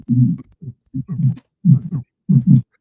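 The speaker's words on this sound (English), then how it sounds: "Heartbeat." Regular heartbeats come through strong and close, paired thumps in a steady rhythm, about four double beats with silence between them.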